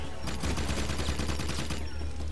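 Rapid gunfire from the video game Jak 2 rattles on continuously in a dense, loud burst of repeated shots with no pauses.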